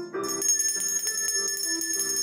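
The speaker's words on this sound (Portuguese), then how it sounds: "o menino resolveu tocar de novo o sino" A bell is rung several times in quick succession, its clear metallic tones ringing and overlapping close by.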